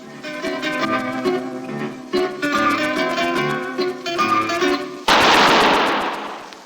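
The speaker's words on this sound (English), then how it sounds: "That was the shot that killed Harry Lime." A single loud gunshot from the radio drama The Lives of Harry Lime cracks out near the end with a long echoing decay, after a stretch of plucked zither music.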